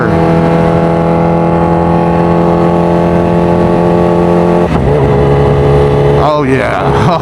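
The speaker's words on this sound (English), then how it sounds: "That quick shifter is butter." A Kawasaki Ninja H2R sportbike accelerates hard, its loud close engine note holding steady before a quick-shifter gear change drops the pitch, then revving climbs again with a rising whine near the end.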